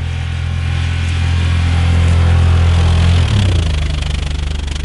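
A VW Polo 9N with camshaft damage idles close and loud, its engine holding a steady low rumble and drone throughout with a slight shift in tone partway through.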